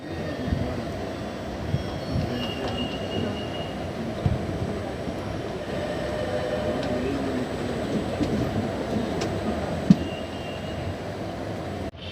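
The Circar Express passenger train departing Puducherry rumbles steadily with a continuous low clatter of rolling wheels and carriage noise, with faint background chatter and an occasional metallic clank.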